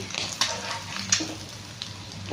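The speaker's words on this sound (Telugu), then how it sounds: "కొంచెం ఆవాలు చిటిపట ఆడే వరకు వదిలేస్తాం" Mustard seeds splutter in hot oil while an egg masala is being cooked: sharp, scattered pops and crackles burst over a steady, low sizzle, fairly close and moderately quiet.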